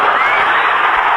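A football stadium crowd at a 1980 Chargers–Dolphins game roars and cheers in a dense, sustained wall of noise, loud and close, with no single voice standing out.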